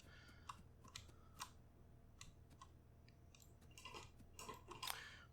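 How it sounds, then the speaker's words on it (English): A dog gnawing a bone somewhere behind, heard as faint, irregular clicks, crunches and scrapes that grow slightly louder near the end, with no talking. "You guys could probably hear my dog chewing on her bone behind me as well."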